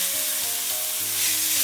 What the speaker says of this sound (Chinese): 煸香以后，再把香菇末给倒进来，肉末也加进来